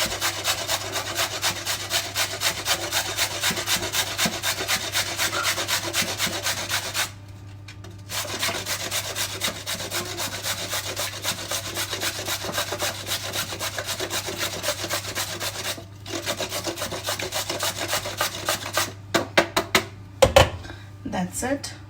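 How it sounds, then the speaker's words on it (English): A carrot being rubbed against a grater in a kitchen, steady rasping strokes close up, running nearly continuously with a couple of brief pauses and some clatter near the end. "I'm going to cut our carrot and grate the carrot"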